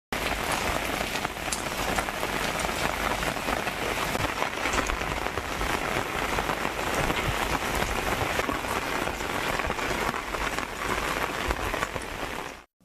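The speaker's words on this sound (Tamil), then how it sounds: "நள்ளிரவு சுமார் 45 நிமிடங்கள் மழை வெளுத்து வாங்கியது." Heavy rain falls at midnight in a Tamil Nadu town after a hot day, a dense, even roar of drops on hard surfaces that stays constant and close throughout before ending abruptly; no voices.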